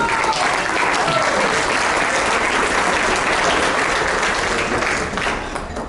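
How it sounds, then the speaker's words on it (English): An indoor audience at a Rotary presentation applauds in a steady, dense round of clapping that holds strong for about five seconds and then begins to fade slightly, with no voices over it. "Round of applause."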